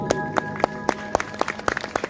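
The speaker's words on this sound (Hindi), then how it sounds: "जरूर ताली बजाइए" Audience clapping at a village devotional function during a Krishna–Sudama bhajan performance, heard as about a dozen distinct hand-claps in an uneven rhythm over roughly two seconds, with a steady musical drone or tone underneath.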